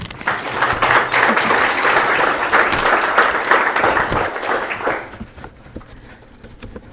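Audience applause at a police academy graduation ceremony, a dense, steady wash of many hands clapping that fades out near the end into quieter room noise.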